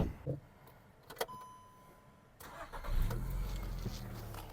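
A 2006 Volkswagen Golf 5 with a 1.6 MPI engine: a few cabin clicks and a dashboard chime, then the starter cranks and the engine catches quickly and settles into a steady idle, heard from inside the car.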